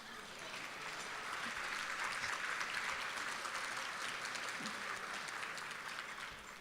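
Audience applause at a community award ceremony in Arlington honoring scholarship giving, a steady, dense clapping that swells quickly and holds at even loudness for several seconds with no voices over it.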